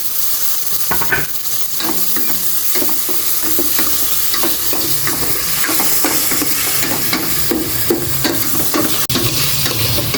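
Onion and tomato sauté in a pan, a continuous loud sizzle broken by repeated scraping stirs of a utensil, close and with no voices.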